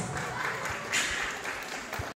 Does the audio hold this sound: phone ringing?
no